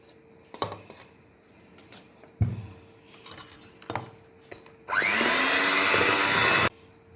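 An electric hand mixer whirs loudly and steadily for about two seconds as it blends thick chocolate chip cookie batter, with scattered clanks and bumps of a bowl before it starts.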